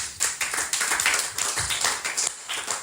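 A church congregation at a Sunday service claps: quick, uneven hand claps and taps rippling together, moderately loud and fairly close, with no talking.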